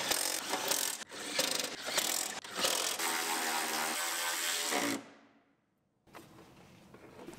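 Ratchet tightening bolts on a Chevrolet Silverado truck battery tray during a cab swap, rapid clicking pawl strokes in a steady run for several seconds, then a pause before more clicking, close up with no talk.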